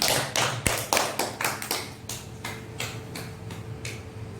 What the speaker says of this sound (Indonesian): kita kasih aplaus untuk kelompok 2